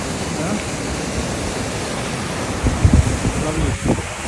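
A Himalayan river on the Everest base camp trek between Dingboche and Lobuche rushes past frozen ice with a steady broadband hiss of flowing water, with brief louder splashes or bumps near the end.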